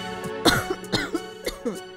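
A sick woman coughing inside a house, a rapid series of harsh, close coughs with throat clearing, no talk.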